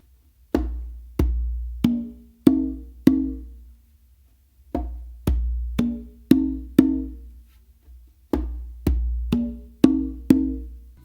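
Hand drum exercise played up close: a finger tap, a deep bass stroke, an open tone, then two more opens, repeated in three even phrases with resonant, decaying hits.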